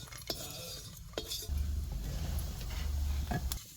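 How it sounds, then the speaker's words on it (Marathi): Sesame seeds and cumin roasting on a griddle, giving a soft dry sizzle with a few sharp metallic scrapes and clinks of a spoon, close and fairly quiet over a low hum. "तिळ जिरं ह्यातच भाजून घ्यायचं म्हणून मी वर भाजायला लागलो"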